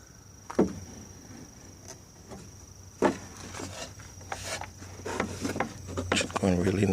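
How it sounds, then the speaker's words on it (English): A Volkswagen air intake filter pressed into its housing, with scattered rubbing and plastic creaks, two sharper knocks, and louder scraping toward the end, under a faint steady hum. "Press it in, all the edges, press it in really good."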